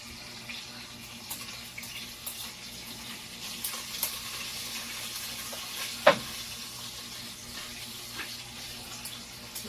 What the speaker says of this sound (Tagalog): Hugasan ang gulay.